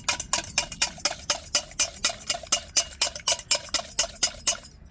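Kuzhi paniyaram batter is stirred in a bowl with about fourteen quick, evenly spaced strokes, each a close, crisp scrape and knock of the utensil, with no talk.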